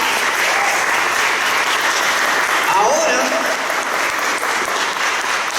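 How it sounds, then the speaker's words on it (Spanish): A church congregation claps loudly and continuously during a worship service, with a voice speaking briefly over the dense applause. "Un aplauso fuerte al Señor."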